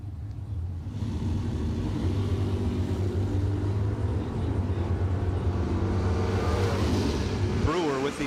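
Drag racing cars, one a Mustang, rumble at the line in a bracket race, a steady loud engine drone with rising revving near the end, under a trackside announcer's voice.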